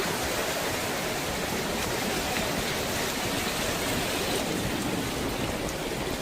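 Ocean water rushes through a rock passage on the Malibu coast as a dense, continuous roar of churning spray, steady and close. No voices.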